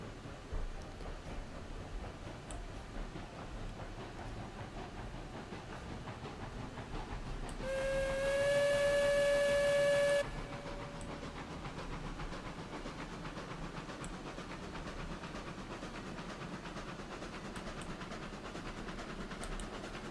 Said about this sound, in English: This locomotive does turn around and definitely go fast.